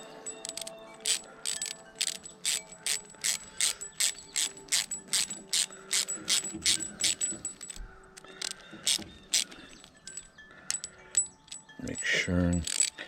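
A ratchet clicks in a rapid, even rhythm of sharp metallic ticks while a garden hose fitting is tightened during a leak repair, then slows and becomes irregular before a final burst of rattling.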